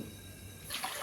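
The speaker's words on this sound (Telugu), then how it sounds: "ఒక గిన్నె నిండా నీళ్ళు పోస్తున్నానండి" Quiet room tone, then water starts pouring into a pan holding a kilo of sugar in a loud, splashy rush for the last part.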